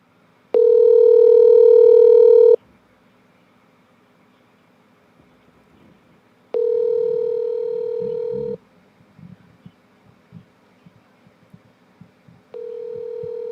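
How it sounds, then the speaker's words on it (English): A phone call rings out through a handset, with three long, evenly spaced electronic ring tones separated by quiet gaps and faint shuffling between them. "Let me make a phone call live on air, see if I can get my man to answer the phone."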